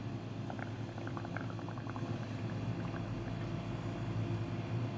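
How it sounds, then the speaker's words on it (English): Bubbles blown through a straw into liquid to build up a foamy layer, a steady low bubbling gurgle with scattered small pops running continuously throughout. "So I've just been blowing bubbles and layering them on top of the other ones"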